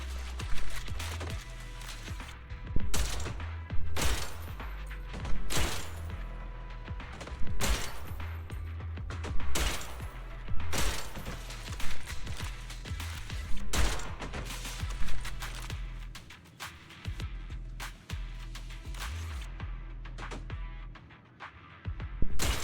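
Trigger's gun in the video game Zenless Zone Zero, firing rapid bursts of loud, punchy shots over a steady low hum, in repeated volleys throughout with short gaps between them.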